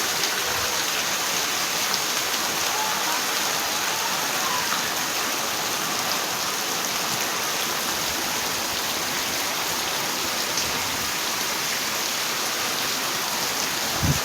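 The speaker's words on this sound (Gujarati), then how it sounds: "વરસાદ બહુ આવે છે" Heavy rain pours steadily over open farmland in a downpour, a dense continuous hiss of drops with no pauses, loud and even throughout.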